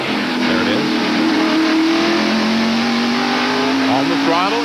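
In-car sound from Jimmy Hensley's race car at the 1993 Hanes 500, its engine climbing steadily in pitch as it accelerates hard down the front straightaway, loud and continuous throughout.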